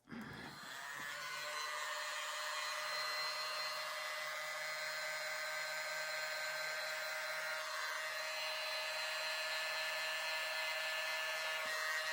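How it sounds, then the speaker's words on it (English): A small handheld mini blower pushing air across poured acrylic paint to make a bloom, a steady close whirring hiss that starts abruptly and runs unbroken throughout. "use my mini blower."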